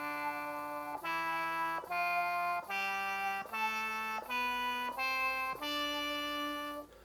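A prototype Harminator wind instrument plays a minor scale, one side pitch-bent to reach a missing note, in about eight sustained, evenly stepped tones, each held close to a second, loud and alone.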